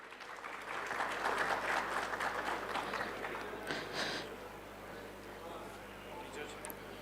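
An audience at a live conference event applauds as a guest is called to the stage. The clapping swells quickly, holds as a dense patter, then thins out, with voices present in the room.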